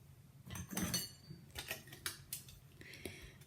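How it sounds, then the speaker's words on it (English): A knife pushed into a foil-wrapped jacket potato fresh from the air fryer, giving short crinkly foil rustles and light metallic taps close by, with no talking. "I'm going to stick a knife into it to see if it's ready."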